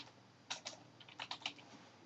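Keystrokes on a computer keyboard as a short project name is typed: two quick taps, a pause, then a rapid burst of clicks, close and fairly quiet with no talking.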